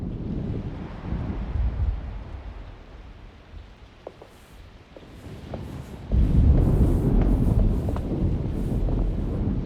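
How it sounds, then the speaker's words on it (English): In the 2024 video game Alone in the Dark, a storm draws near. A low rumble of thunder and gusting wind swell, then grow louder and broader partway through, with no voices. "Looks like a storm's coming."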